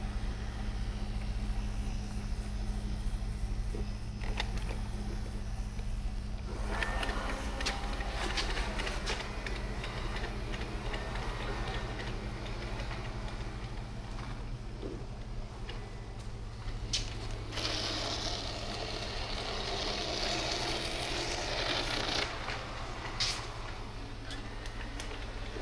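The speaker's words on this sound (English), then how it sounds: "I think it's actually vacuuming as it goes right now and not just mapping." A robot vacuum cleaner vacuuming as it moves around a room, a faint, steady motor hum and whir that drifts slightly as it travels, with some brief brushing and rattling noises.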